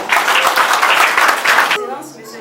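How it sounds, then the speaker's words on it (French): A crowd at a political installation ceremony breaks into loud, dense applause that cuts off abruptly, followed by a brief quieter moment with faint voices. "J'aimerais que vous applaudissez pour vous-même."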